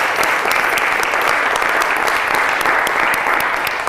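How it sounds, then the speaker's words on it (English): An audience at a live community health event breaks into steady, dense applause that stays loud and even for the whole stretch, with no speech over it. "yes, applause."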